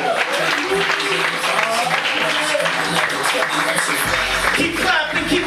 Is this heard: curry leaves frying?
no